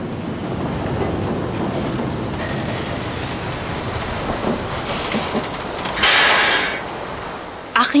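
Steam train running on rails along the German Baltic coast, a steady rumbling rattle of wheels and carriages with a brief hiss of steam near the end, under faint talk.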